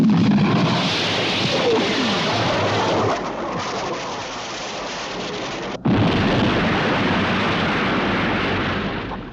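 An explosion aboard a ship in a 1970 science-fiction TV series makes a loud, sustained rumbling roar with a brief cut partway through, then keeps churning before fading slightly.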